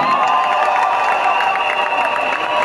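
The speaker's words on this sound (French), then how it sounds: "Est-ce qu'on peut faire une action d'acclamation pour les femmes?" A large crowd of supporters at a political rally cheers and shouts continuously, a dense roar of many voices holding steady at full volume throughout.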